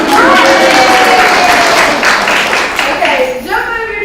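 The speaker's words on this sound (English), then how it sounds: "let's give her a round of applause" An audience at a weight-loss group meeting breaks into loud, close applause that starts at once and tapers off after a few seconds, with cheering voices mixed in.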